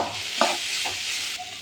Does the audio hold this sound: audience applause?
no